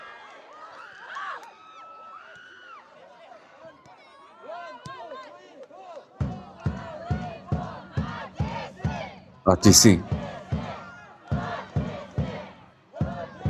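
A supporters' section at a Bhutan Premier League football match in a stadium, chanting rhythmically with loud repeated shouts and drum-like beats, with a commentator talking over the opening.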